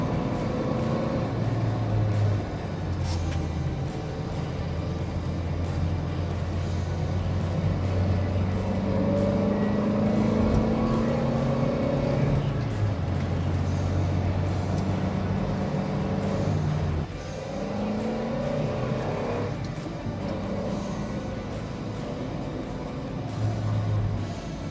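A Mark 1 Mazda MX-5 roadster is driven hard through a series of bends, its engine droning and rising and falling in pitch as it revs and eases off, steady and fairly close throughout with no talking.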